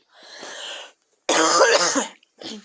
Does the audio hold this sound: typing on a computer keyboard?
no